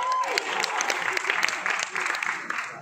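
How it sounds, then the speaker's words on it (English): Audience applause at a fan event in Manila with the cast of The Witcher, dense clapping from a large crowd filling the space steadily for a few seconds, with some cheering mixed in. "Give a round of applause."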